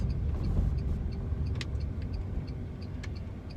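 A car driving along a road on a driving test route through Tallaght Village, a steady low engine and road rumble throughout, with faint ticking of an indicator.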